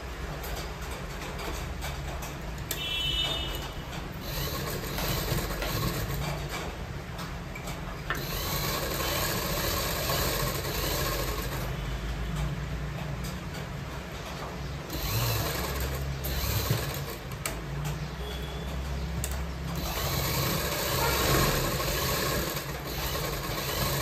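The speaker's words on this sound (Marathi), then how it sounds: "शिलाई मारून घ्यायची सरळ. मी मारते आणि मग दाखवते तुम्हाला." A sewing machine stitches a straight seam on a baby's bunny hat, a fast, steady mechanical whirr running in long bursts with short pauses, close and fairly loud, with no talking.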